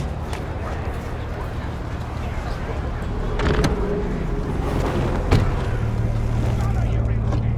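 A factory-new car in Cyberpunk 2077 pulls away as a steady engine hum and road rumble, rising slightly in the middle, with a couple of sharp knocks and voices talking over the drive.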